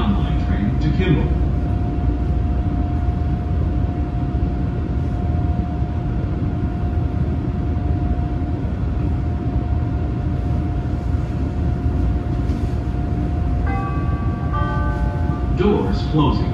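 A Chicago CTA Brown Line elevated train heading to Kimball rumbles steadily from inside the car, with a sustained whining tone and a few chime-like beeps near the end.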